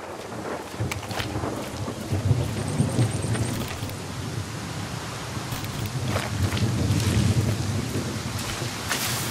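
Heavy rain and rolling thunder in the Far Cry 6 game, a steady hiss of downpour with deep rumbling thunder swelling underneath and occasional sharper cracks.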